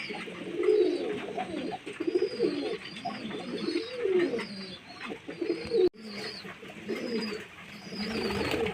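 Giribaz high-flying pigeons coo in soft, repeated throaty calls, close by, with a faint higher bird chirping in the background.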